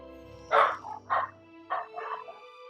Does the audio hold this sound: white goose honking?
no